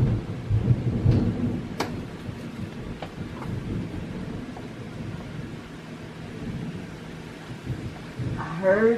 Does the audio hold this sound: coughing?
no